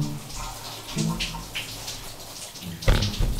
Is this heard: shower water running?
yes